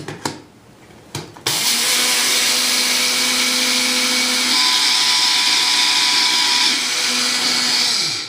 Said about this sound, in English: we're going to use the grinding blade because we're going to actually grind the flaxseed up